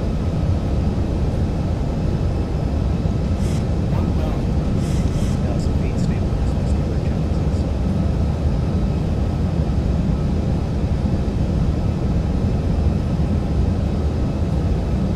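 Steady jet engine drone from a Boeing 737-800 (ZIBO 738) in X-Plane 11 during touch-and-go practice, a continuous low rumble filling the whole stretch with brief faint clicks and a voice speaking over it.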